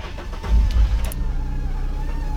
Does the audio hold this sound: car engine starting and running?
yes